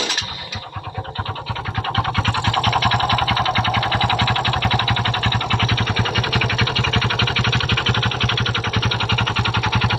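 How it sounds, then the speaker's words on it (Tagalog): A Kymco Visar 110 motorcycle engine idles with a knocking fault inside the engine, before connecting rod replacement: a steady, close, fast mechanical chatter with a constant low rhythmic pulse running throughout. "nais ko muna parinig sa inyo ang motor niya nung hindi pa natin siya pinalitan ng connecting rod"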